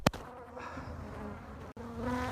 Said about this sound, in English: it's absolutely boiling with bees